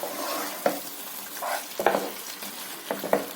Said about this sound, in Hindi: अभी हम इसमें ये चिकन डालेंगे जो हम मैरिनेशन करे थे। इसको मिक्स कर देंगे